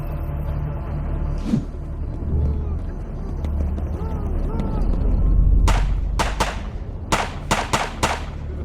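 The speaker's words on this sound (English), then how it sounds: "The artillery conducted intense shelling of the coastline." Artillery shells the coastline in a rumbling barrage, with deep booms rolling under a dense wash of noise. Several sharp, loud blasts then land in quick succession near the end.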